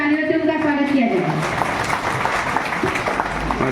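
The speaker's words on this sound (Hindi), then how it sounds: "प्लीज कृपया तालियों से उनका स्वागत किया जाए" Applause welcoming an advocate at a housing society annual meeting in Mulund, moderate clapping from a gathered crowd, steady under a speaking voice that fades out early.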